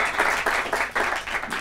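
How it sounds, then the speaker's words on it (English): A game show studio audience claps steadily for a contestant, giving a continuous fairly loud patter of applause with slight rhythmic swells. "Nice round of applause."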